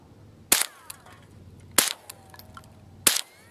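Three sharp, loud .22 rimfire cracks from a Rossi RS22 rifle fired at a can, evenly spaced about a second apart, each with a brief ringing tail over quiet outdoor background.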